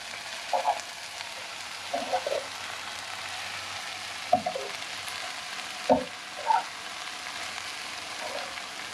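Ramen noodles being stir-fried with vegetables and Spam for Hawaiian fried saimin, a steady soft sizzle broken by several sharp scraping stirs of the spatula in the pan, close and moderately loud with no talking.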